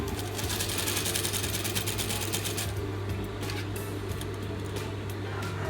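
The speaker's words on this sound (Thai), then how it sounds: "ต่อมาเนาะเขามายิบหัวสิ้นนี้เลยเขาจะเริ่มจาก จุดที่เราพับไว้นี้เลยเนาะ" An electric sewing machine stitches the folded top hem of a Lao sinh skirt with a continuous, close, mechanical whir. Fast rapid ticking shows in the first half, then it settles into a steadier hum.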